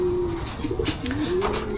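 Pigeon in a racing pigeon loft gives soft, rolling coos, several close-up throaty calls in quick succession with nothing else heard.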